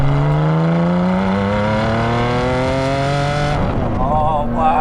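Ferrari Enzo V12 revving hard as it accelerates, a loud, sustained rising engine note climbing through the rev range before a gearshift, then building again.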